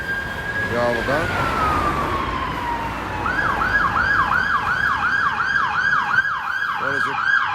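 An ambulance siren passes along a street in Newcastle's West End, rising from a steady tone into a repeated wailing sweep that grows loud and close, with light traffic noise underneath and a brief voice near the end.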